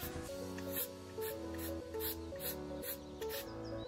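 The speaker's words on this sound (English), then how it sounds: "That was a lot of spray, my bad." Short repeated hisses of a hair spray can, about seven quick bursts in a steady rhythm over a faint musical background.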